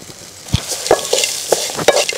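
Thuthuvalai leaves with coconut, rock salt and tamarind sautéed in a pan, a spoon scraping and clinking in irregular strokes over a light sizzle, close and fairly loud, with no voices.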